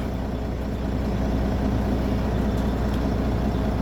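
A Cat D8N bulldozer with weak steering idles in a steady, low, continuous engine rumble, moderately loud and unchanging throughout.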